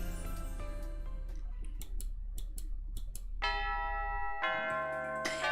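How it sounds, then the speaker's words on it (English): School lunch bell in the visual novel Love, Election, and Chocolate, a chiming tone that rings out and sustains in bright layered notes after a stretch of soft ticking clicks, loud and alone. "As soon as the lunch bell rings"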